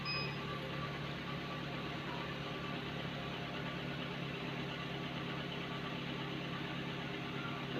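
A 2016 Daihatsu Gran Max idles steadily through an emission test, its even mid-low engine drone continuous and close with no talk.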